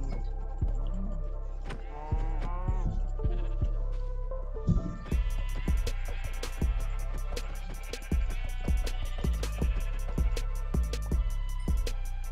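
Minecraft sheep bleating in repeated wavering calls over game sound effects and a clicking rhythmic background, with no talking.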